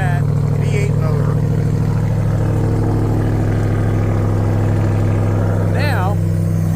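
Ram TRX pickup with a supercharged Hellcat V8 idling nearby, a deep, steady, rumbling drone throughout with someone talking over it.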